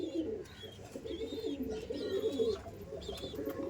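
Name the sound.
pigeons cooing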